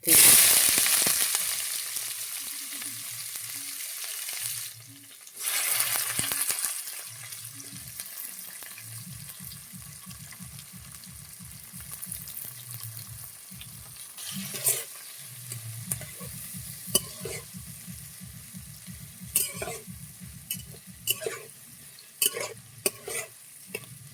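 Onions fry in hot oil with black pepper, bay leaf and dried chili, a soft sizzle under repeated rhythmic stirring scrapes and later sharper utensil clicks, with a brief splash of running water near the start.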